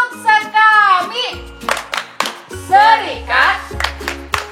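Children at a Sunday school gathering of the Catholic Sekami children's mission group chant in unison and clap in rhythm, with sharp, close hand claps punctuating the sung and spoken phrases over a low backing tone.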